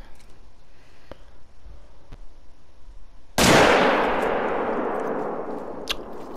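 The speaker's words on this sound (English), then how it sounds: "I'm gonna shoot him from here." A single loud rifle shot from a .300 Magnum during a hunt cracks out mid-clip, followed by a long outdoor echo that fades slowly. Quiet ambient noise comes before it, and a faint clink comes near the end.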